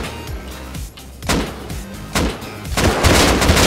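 AK rifle fire in the Rust survival game crackles in several loud bursts of rapid shots, mixed with impacts and other game noise, fairly close and dense.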